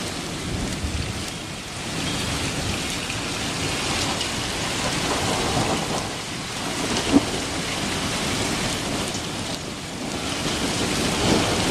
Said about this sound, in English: But it's this unending, loud, thunderous rumble. And there's just no break in it.